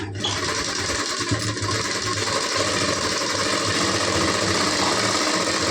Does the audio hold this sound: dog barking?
no